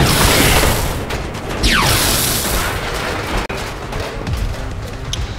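Rapid-fire gunshots in the video game XCOM: Enemy Unknown, loud booming bursts over a dense, rumbling battle background.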